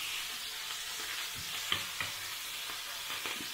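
Turkey breast frying in a pan for a noodle dish, a steady close sizzle with a few faint pops and stirring clicks, no voices.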